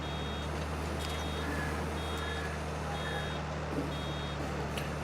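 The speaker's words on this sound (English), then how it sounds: "I wish it would keep beeping until it's not, until it's ready to start baling again" Warning beeper on a baler in a UK farming video game sounds as short repeated high-pitched tones at a steady rhythm, over a constant low engine drone.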